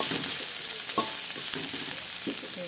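Garlic frying in a large pan, sizzling steadily as a big spoon scrapes and stirs it in short, repeated strokes.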